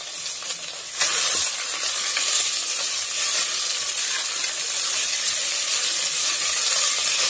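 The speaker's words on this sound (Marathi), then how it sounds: "ह्या भाज्या आपल्याला तेलात व्यवस्थित अशा छान फ्राई होऊ द्यायच्या आहेत" Peas, capsicum and tomatoes sizzle steadily in hot oil for veg pulao, a dense continuous frying hiss that swells slightly after the first second and holds close and even, with no voices.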